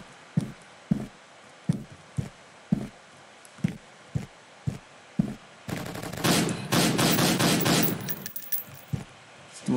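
Video game gunfire in Rescue Six: a steady run of separate sharp shots gives way to a dense, loud burst of rapid automatic fire, then a few more single shots at the end.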